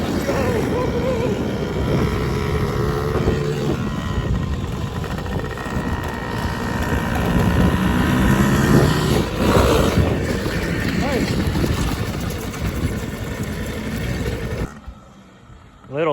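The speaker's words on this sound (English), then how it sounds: "driving a manual quad" A manual quad bike engine runs steadily, a constant buzzing drone under people talking nearby, then cuts off abruptly near the end.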